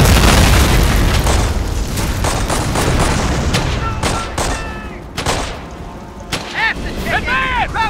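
Mortar explosions and machine gun fire in the Company of Heroes video game, heavy booms and rattling bursts that start dense and loud and thin into scattered shots, with shouted soldier voices over the battle.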